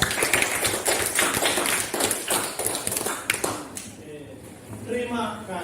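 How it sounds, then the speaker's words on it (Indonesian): A classroom of children applauds together in a steady burst of clapping that fades after a few seconds, with voices talking over the end. "Tepuk tangan untuk semua."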